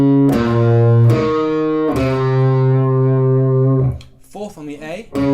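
Electric guitar plays a slow riff, three long ringing picked notes with a slightly distorted tone. Then the playing stops and a voice speaks close.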